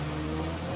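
Rain in the Dirt Rally 2.0 rally game, a dense steady wash of drops over a low engine drone, brief and fairly loud.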